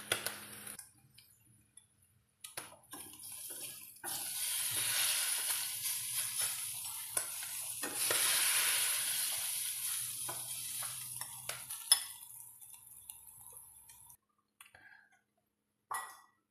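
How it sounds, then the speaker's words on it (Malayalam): Sardines sizzle steadily in a hot frying pan, with a broad continuous crackle swelling and easing as the fish are stirred and scooped out, punctuated by a few clinks of a metal utensil against the pan near the end. "മത്തി നന്നായിട്ട് മൂത്ത് വന്നിട്ടുണ്ട്. ഇനി ഇതൊന്ന് ഞാൻ കോരിയെടുക്കാൻ പോവുകയാണ്."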